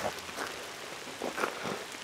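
Rain falls steadily at night in the outdoors during a coon hunt, a soft continuous patter on surfaces with occasional slightly louder drops, faint and alone.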